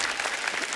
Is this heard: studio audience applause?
yes